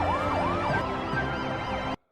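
Police and ambulance sirens wail together, loud and close, their rising and falling tones overlapping steadily for about two seconds before stopping abruptly.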